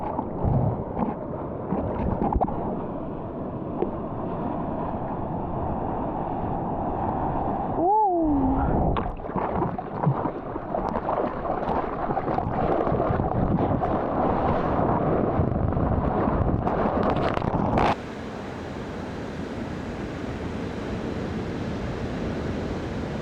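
Ocean waves rush and break while surfing in France, a loud continuous roar of surf mixed with heavy wind buffeting on the microphone, with a brief squeaky tone partway through.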